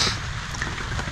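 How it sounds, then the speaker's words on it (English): Steady rain falls around a hunting blind during a father-and-son deer hunt, a continuous dense hiss of drops with no pauses and no voices. "It's raining pretty steady right now."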